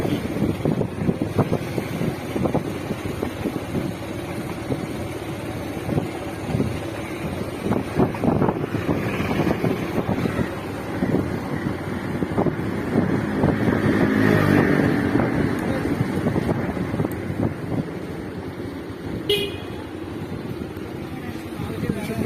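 A boat engine drones steadily over the water near Edathua amid wind rush, while people talk over it.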